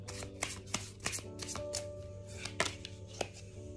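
Tarot cards are shuffled close by in quick riffling and slapping bursts, crisp and fairly loud, with no talking.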